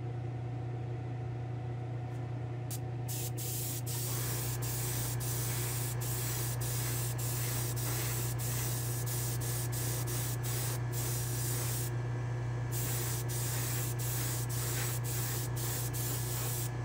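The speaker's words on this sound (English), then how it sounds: "I'm going to throw a little clear coat on this bad boy" A spray can puts clear coat onto a model Willy's dragster, a loud, steady hiss close to the ear after a few seconds of background hum, broken by brief clicks and pauses in the spray.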